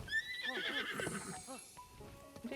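A horse in Zelda: Breath of the Wild lets out a clear, loud neigh with a wavering whinny, followed by a few faint hoof clops and low game sounds.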